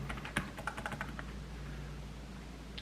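Typing on a Keychron K3 V2 keyboard fitted with a key skin: a short, muffled run of soft key taps over a steady low hum, fading to just background noise.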